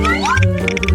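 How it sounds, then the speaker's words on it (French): A cat gives one short rising meow, close and fairly loud, amid a busy mix of other sounds. "Ah ouais, c'est un chat."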